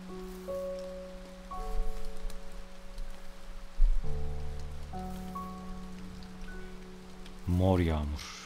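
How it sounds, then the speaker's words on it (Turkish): Rain patters steadily in the video game A Bird Story beneath sustained musical tones, with a brief low rumble near the end; no one speaks. "Yağmur yağıyor."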